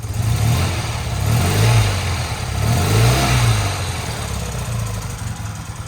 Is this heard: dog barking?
no